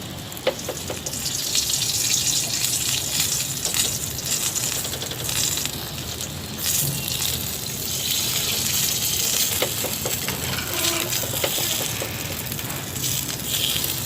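Chicken tikka pieces sizzle steadily on a barbecue grill as cooking oil is brushed over them, a continuous close frying hiss with faint clicks and pops throughout.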